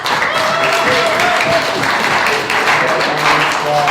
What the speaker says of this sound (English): shout out to Village Club, man. Just round of applause.